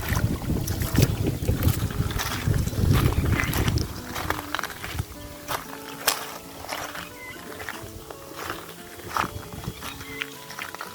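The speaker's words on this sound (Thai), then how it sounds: "ลมค่อนข้างแรงเลยนะครับวันนี้" Strong wind at a riverside campsite on the Phetchaburi River: loud, continuous rushing gusts buffet the microphone, with rumbling bursts that ease slightly partway through.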